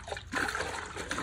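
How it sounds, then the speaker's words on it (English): Water sloshes inside a sealed DIY giant rock tumbler barrel as it is tipped, a short close-up swish and gurgle of liquid moving within a closed container, with no talking. "can hear the water inside of it."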